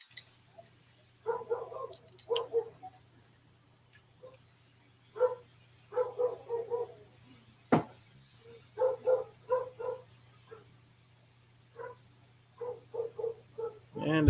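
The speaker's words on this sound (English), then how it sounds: "she'll bark for like about a minute" A pet dog indoors at a home barks again and again as someone arrives, with short loud barks coming in irregular clusters over a steady low hum, fairly close to the microphone.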